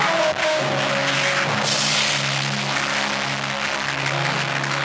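Congregation at a church service cheering and clapping with hope, a dense, loud sustained wash of applause over background music, swelling midway.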